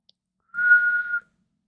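One short, steady whistled note, clear and fairly close, with silence before and after.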